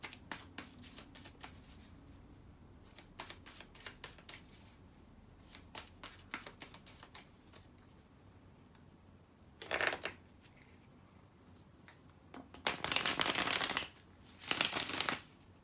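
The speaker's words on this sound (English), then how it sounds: "Let me shuffle the cards." A deck of tarot cards is shuffled by hand in repeated riffles and flicks, the crisp flutters coming in quick bursts, closer and louder toward the end, with no talking.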